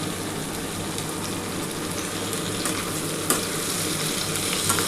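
Frying with a pinch of Kashmiri chilli powder for a potato and Bombay duck curry, with a dense, steady sizzle and a few faint stirring clicks, close and unbroken, no voices.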